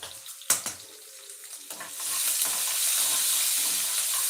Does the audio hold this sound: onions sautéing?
yes